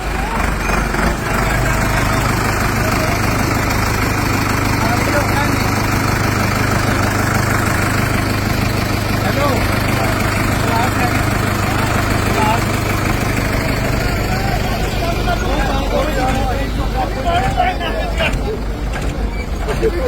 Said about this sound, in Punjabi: ਦੇਖੋ ਟਰੈਕਟਰਾਂ ਦੇ ਨਾਲ ਕਿੰਜ ਟਰਾਲੀਆਂ ਨੂੰ ਹਟਾਇਆ ਜਾ ਰਿਹਾ